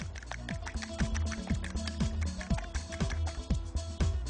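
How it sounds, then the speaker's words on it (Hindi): Beaten eggs and milk are whisked in a bowl for fusion scrambled eggs, the whisk making quick rhythmic clicks and taps against the sides at close range. "फिर फेंटने के बाद आप 100 मिलीलीटर दूध अंडों में डाल दें। फिर फेंटें।"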